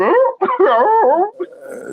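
A voice imitates a dog with a run of yelping, whining barks, loud and close, lasting about two seconds before trailing off.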